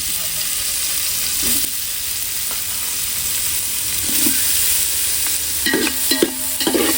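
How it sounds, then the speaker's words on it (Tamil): Paneer fries in ghee for a wedding dish, giving a close, constant bubbling sizzle. A few scraping stirs and soft knocks of a spoon against the vessel come through near the end. "அப்படியே நெய்யில பொரிச்சு எடுத்துக்கலாம்"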